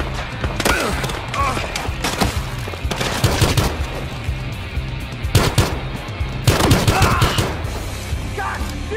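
Rapid bursts of gunfire crackle through a Battlefield Hardline gameplay scene, loud and dense, with repeated volleys and shots layered over a continuous low rumble.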